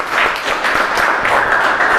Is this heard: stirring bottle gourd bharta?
no